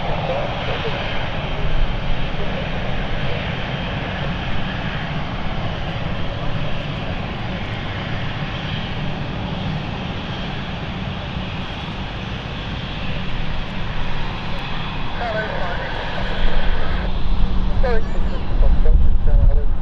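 A passenger airplane on the Palma flight at London City Airport: a continuous engine roar that builds slightly toward the end. A voice talks over it.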